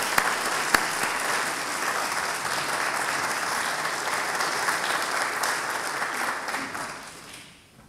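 A concert audience claps steadily to welcome an organist at a Christmas organ concert, a dense even wash of applause that holds for several seconds and then fades out.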